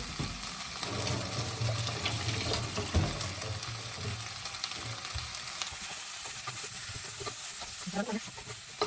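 Kohlrabi washed under running water in a kitchen, a steady splashing rush with faint handling clatter, fairly quiet throughout.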